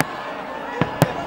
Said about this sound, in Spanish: recibían al 2015, también, claro, con fiesta de fuegos artificiales